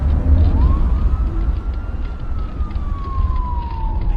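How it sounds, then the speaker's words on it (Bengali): A wailing siren rising and slowly falling in pitch, somewhat distant, over a loud low rumble of traffic. "একটু আগেই একটা সাইরেনের শব্দ পেয়েছি।"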